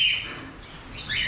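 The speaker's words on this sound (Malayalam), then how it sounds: "എല്ലാ ഇതിനകത്ത് കിളികളുണ്ട്" Birds chirp and tweet inside a large walk-in aviary in Kerala, a close, bright flurry of calls that fades briefly and then rises again.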